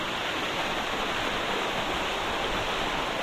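The second waterfall on the Labi River in Bongabon roars in a steady, dense rush of falling water, close and unbroken, with no voices over it.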